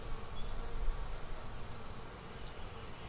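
Honeybees at an opened hive during colony inspection, a dense continuous buzzing swarm hum filling the space close by, steady with slight swells and no speech over it.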